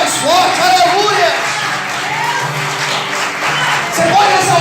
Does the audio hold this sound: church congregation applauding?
yes